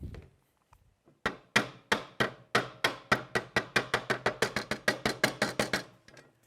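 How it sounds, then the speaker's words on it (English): A hammer lightly taps a bearing into a model car chassis: about twenty sharp, close taps in a steady quickening rhythm after a short quiet start, with no talk over them. "Oh, this one needs the hammer."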